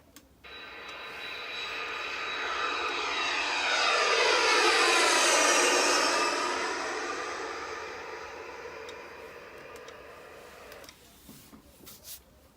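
A jet aircraft engine sound effect swells into a roaring whoosh as if passing by, peaking midway and then fading away, with nothing else heard.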